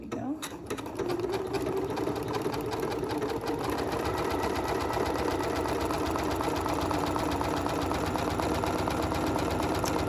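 A Janome MC9450 sewing machine stitches a buttonhole, a steady, close mechanical whirring with rapid needle clatter running continuously for ten seconds without pause.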